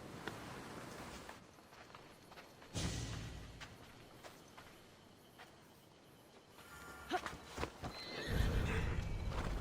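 Horse riding in Assassin's Creed Odyssey: a horse neighs and whinnies over steady clip-clop hoofbeats, with a louder burst near the start and heavier hoof thuds and movement toward the end, close and clear, with no talking.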